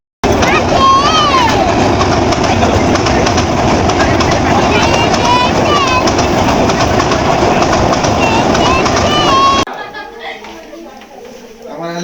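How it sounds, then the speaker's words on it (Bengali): A train rolls past on railway tracks with a loud, sustained rumble and wheel clatter, and high squeals ring out now and then. The noise drops away abruptly near the end, leaving quieter background sound. "এদিকে আবার দেখলাম ট্রেন যাচ্ছিল"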